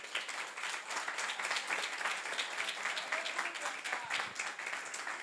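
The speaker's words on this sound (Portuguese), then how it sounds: "Vamos dar salva de palmas para Jesus?" At a Portuguese-language church seminar on fasting, the congregation gives a continuous round of applause. The many clapping hands sound moderately distant and fairly soft, with some faint voices mixed in.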